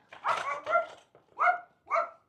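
A small dog barks four times in quick, sharp yaps at close range, each bark short and clear with brief pauses between them and no talking.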